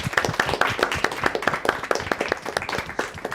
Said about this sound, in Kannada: ನನಗೂ ಚಪ್ಪಾಳೆ ಇದೆ ಅಂತ ಇವತ್ತೇ ಗೊತ್ತಾಗಿದೆ.